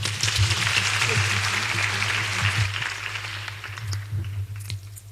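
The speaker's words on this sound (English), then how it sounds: "Another round of applause, please, for our Chancellor." An audience at a Kenyatta University public lecture applauds, a steady wash of clapping over a low hum that gradually thins and fades toward the end.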